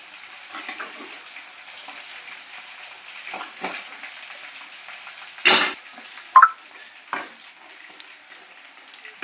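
Chilli chicken dry fries in a pan with a soft, steady sizzle, broken by a few louder bursts of spattering and stirring scrapes close by.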